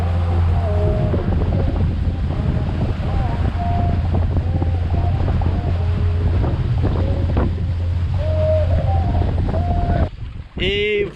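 Strong wind buffets the microphone at an outdoor spearfishing spot, a constant low roar with a steady engine-like hum beneath, ending in sharp handling noise.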